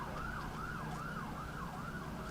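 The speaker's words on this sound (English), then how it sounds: "Sirens and safety cars are being released." Wailing sirens on safety cars being released at the Pikes Peak race, a rising-and-falling electronic whoop repeating several times, fairly distant and faint over a steady background rumble, with no one talking.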